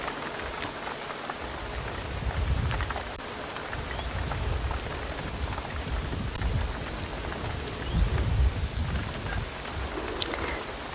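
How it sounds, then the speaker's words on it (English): Rain falls steadily on a roof at a wildlife-viewing spot at sunset, a soft, even patter with faint low rumbles, no speech. "I just love the sound of the rain on the roof while we're sitting here."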